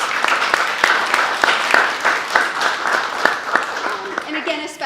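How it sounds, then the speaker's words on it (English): Applause from an audience at a Statehouse meet-and-greet event, a dense patter of many hands with sharp individual claps standing out, mixed with overlapping crowd chatter and voices throughout. "So let's give all of them a round of applause."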